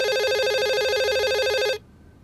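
A telephone rings in a steady electronic warble, repeating cadence, loud and close, then cuts off abruptly, leaving near silence; no one talks over it.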